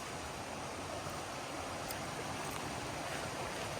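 Steady rushing water flows continuously along an aqueduct bridge in Arizona, a broad even wash of sound with no voices.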